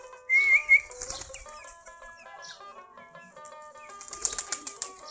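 Deshi Giribaz pigeons walk about and flap after a feed of rice, a burst of wing flapping near the start and again toward the end, with soft whistly bird calls in between and no talk.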